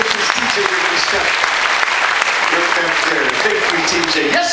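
A cruise ship welcome-show audience applauds a honeymooning couple, with dense, sustained clapping throughout and a voice heard alongside it.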